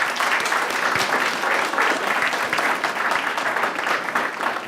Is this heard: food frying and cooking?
no